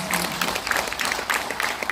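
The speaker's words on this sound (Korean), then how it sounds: "다시 한 번 뜨거운 박수 부탁드리겠습니다." A live-broadcast audience claps warmly in a second round of applause honoring a songwriter's poetry-to-music project, a continuous even patter of many hands at moderate loudness.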